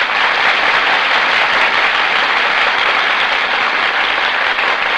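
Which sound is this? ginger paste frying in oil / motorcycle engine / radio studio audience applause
radio studio audience applause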